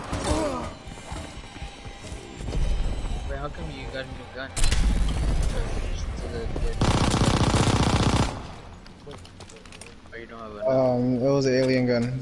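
An alien gun in a video game fires in bursts of rapid mechanical shots, mixed with warbling effects and loud in places, while people talk over the action.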